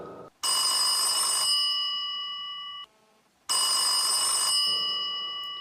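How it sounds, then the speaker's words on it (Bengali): Telephone ringing in two long bursts with a pause between, each a bright, steady electronic bell tone that fades slightly, used as a sound effect in a Bengali mystery audio story. "ঠিক তখনই ফোনটা বেজে উঠল।"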